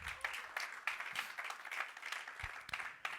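A church congregation claps in a brief, fairly faint burst of applause, dense and steady without talk.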